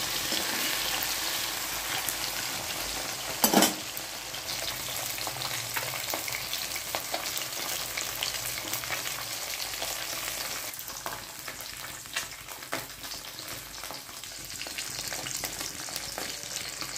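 Pabda catfish fry in a pan with a dense, even sizzle and crackle throughout, close and fairly loud, with one sharp knock of a utensil early on.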